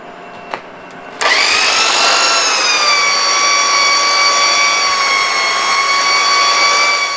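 A buffer polishing a boat hull starts after a brief click and then whines steadily and loudly at close range, holding a constant motor drone for the rest of the clip.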